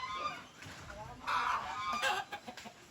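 Farmyard chickens clucking close by in short bursts, with a louder squawking flurry in the middle and scattered soft clucks against a quiet outdoor background.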